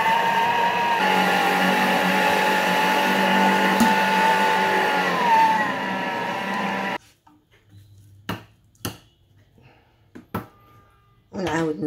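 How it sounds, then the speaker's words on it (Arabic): A Thermomix TM5 or TM6 grinds mastic gum with sugar at speed 10, a loud, steady high-pitched motor whine for about seven seconds. It then cuts out abruptly, followed by a few sharp clicks and knocks in near silence. "غادي نسد، ندوز نطحن مزيان باش نحصل على عقده. غادي نبدا بدقيقه السرعه 10."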